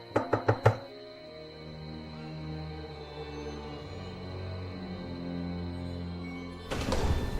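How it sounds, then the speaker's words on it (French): Four sharp knocks on a castle door ring out close and loud in quick succession, followed by a long stretch of quiet low hum and then a burst of rustling noise. "c'est sur la porte qu'il faut frapper, c'est pas moi"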